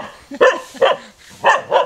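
A dog barks four times in close succession, loud and near, with sharp, uneven yappy barks and short pauses between them.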